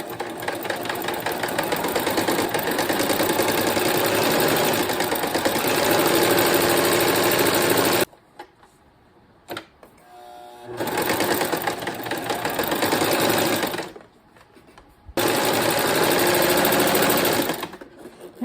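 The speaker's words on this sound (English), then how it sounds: "now I'm going to my machine and I'm going to go ahead and secure" Sewing machine stitching down strips of quilt batting on a quilted heart project, steady running bursts near the mic, stopping and restarting three times with short quiet pauses between runs.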